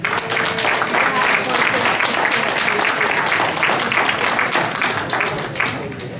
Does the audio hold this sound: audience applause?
yes